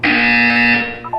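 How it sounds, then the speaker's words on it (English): A loud, steady electronic buzzer from a video game sounds once for about a second, a harsh tonal drone that cuts off abruptly. "You will hear a buzzer."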